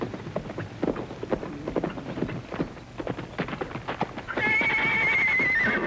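A horse rides into a Western town, hooves clopping in quick irregular beats, then it neighs loudly near the end; faint voices are barely audible beneath.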